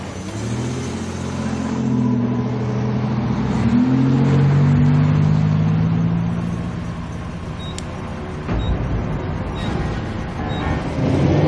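A car driving fast with its engine revving, a loud sustained drone that climbs and falls in pitch over several seconds, heard from inside the vehicle with road noise underneath.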